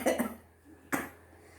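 Woman doing a sneezing challenge lets out short, explosive sneezes, two quick ones close together then a third after a pause, close and fairly quiet.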